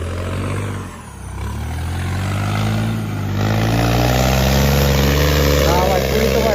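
Tractor stuck in deep mud with its diesel engine running, a loud steady low rumble that dips briefly and then swells to a heavier, strained drone.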